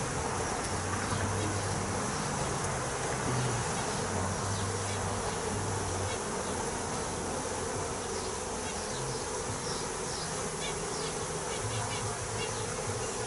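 Honey bees fill a crowded hive during a swarm inspection, their dense buzzing steady and close throughout, with a faint low hum of wingbeats beneath.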